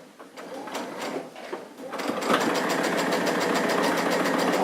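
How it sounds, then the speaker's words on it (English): A sewing machine runs at a steady fast rhythm, stitching a patch pocket after a few softer starts and clicks, its rapid mechanical chatter close and continuous. "I'm just going to start stitching here."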